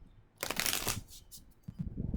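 Two short riffling bursts of cards being shuffled, crisp and close, with a quiet pause between them.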